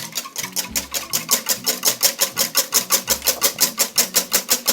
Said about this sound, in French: Et tu vas fouetter comme ça en incorporant de l'air.